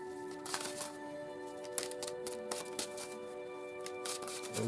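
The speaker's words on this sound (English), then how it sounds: "So let's give a last minute shuffle, choose our first card" A Tarot Grand Luxe deck is shuffled in a quiet room, giving soft, irregular riffling and tapping of cards over a faint steady hum.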